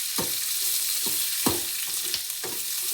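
Chopped onion and chili fry in hot oil with a steady, close sizzling hiss, broken every half second or so by sharp stirring scrapes of a spoon in the pan.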